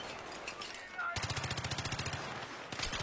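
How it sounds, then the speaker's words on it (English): Rapid automatic gunfire in a shooter video game, a fast rhythmic burst of close shots after a quieter stretch, then another burst starting at the end, with game noise underneath. "right there, I was getting shot from behind"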